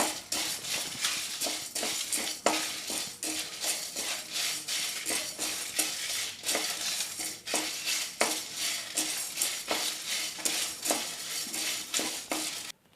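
A spatula clatters rapidly and rhythmically against a pan while Byadagi and hot chillies are stir-fried for bisibele bath, the scraping taps close and continuous throughout.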